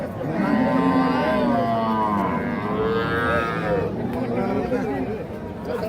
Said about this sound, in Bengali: এই যে শাহিওয়াল ষাঁড় বাচ্চা